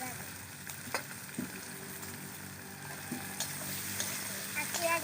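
Chopped cauliflower, capsicum, garlic and carrot sizzle in a pan for fried rice, a steady close hiss with occasional stirring clatters and no talk.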